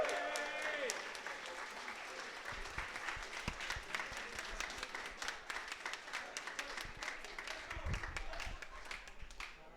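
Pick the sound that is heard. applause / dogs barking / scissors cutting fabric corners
applause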